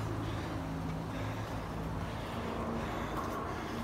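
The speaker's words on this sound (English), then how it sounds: "Nice neighborhood, quiet, except for the freeway noise." Distant freeway traffic makes a steady, low broadband roar beneath a quiet residential neighborhood, with faint breezy wind noise and no distinct passing vehicles.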